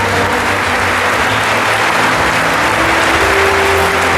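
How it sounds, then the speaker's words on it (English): An audience at a school toppers' felicitation ceremony breaks into loud, sustained applause, a dense continuous wash of clapping that holds steady from start to finish. "Huge round of applause."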